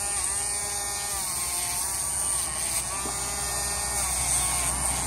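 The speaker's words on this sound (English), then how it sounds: "And then Dremel." Dremel rotary tool whining steadily and continuously at close range while grooming a show beagle, a constant high buzzing hum with no pauses and no talk.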